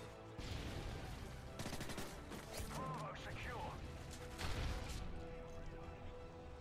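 Shotgun blasts in Modern Warfare 3 on the Arkaden map, several loud booming shots among the steady clatter of other gunfire, with a voice talking over them.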